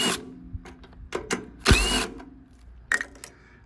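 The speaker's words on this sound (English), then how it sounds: "Undo both of these bolts." Scattered metallic clicks and ratchet-like turns from bolts being undone on a Tecumseh engine on a Craftsman machine. The clicks are close and irregular, with one louder clunk partway through.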